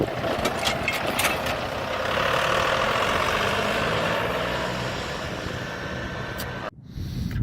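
A John Deere 5400 tractor engine drones loud and steady while driving in road gear, a broad continuous roar that eases slightly toward the end before cutting off abruptly.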